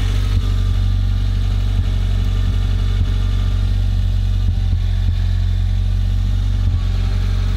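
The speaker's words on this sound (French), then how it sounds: "le pot d'échappement, il fait des petits bruits" A 1986 Renault Supercinq TC 1.0 (42 hp) idles with a damaged exhaust. A steady, close low drone carries faint irregular ticks and puffs, with no speech.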